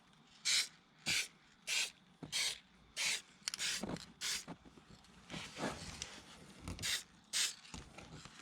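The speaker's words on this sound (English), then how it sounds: "So now I'm gonna go ahead and apply the actual paint." Paint is sprayed onto a car panel during a rust repair without welding: about a dozen short, sharp hissing bursts in an uneven rhythm, close and fairly quiet, with brief gaps between them.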